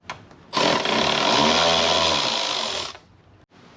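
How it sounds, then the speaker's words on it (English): Power tool loosening the belt box cover screws on a Gen 3 Can-Am Outlander ATV: a loud, close, high-pitched whirring burst of about two and a half seconds, then winding down into a brief quiet. "we're going to take all of these screws around the belt box off so we can take this cover off"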